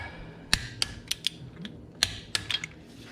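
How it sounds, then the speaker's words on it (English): A torque wrench ratcheting on bolts during CV axle work on a 2004 Ford F150 4WD, giving sharp metallic clicks in short irregular bursts, close and fairly quiet, with no talk. "we're gonna torque that"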